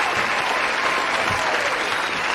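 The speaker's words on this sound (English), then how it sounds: "Let me hit the round of applause for my guy" A round of applause rings out steadily for about two seconds, dense and even without a break, with no talking over it.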